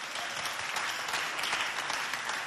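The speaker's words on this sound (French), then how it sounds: "Si vous êtes content, applaudissez bien fort pour vous" A crowd applauds loudly and steadily at a youth dance competition held at a Ndjari neighborhood community hall, a dense wash of clapping that holds without letup throughout.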